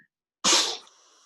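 A single sharp sneeze bursts out loud and close after a brief silence, fading into a soft breathy tail, during a mother-and-baby yoga class.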